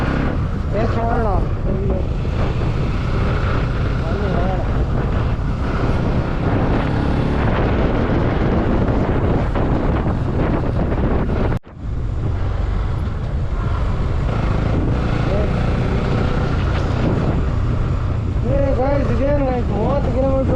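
Bajaj Pulsar NS200 BS4 motorcycle riding along a road during a mileage test, with steady loud engine and wind rush throughout, a brief dropout near the middle, and a voice talking over it.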